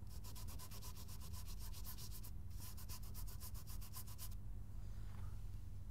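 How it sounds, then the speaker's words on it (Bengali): Rhodamine B dye being rubbed onto a vegetable makes a faint, close, rhythmic scratchy rubbing of quick back-and-forth strokes that pause briefly and then stop toward the end, leaving quiet. "এইবারে আমরা রোডামাইন বি, এই রংটাকে একটু ঘষে দেখি কেমন হয়"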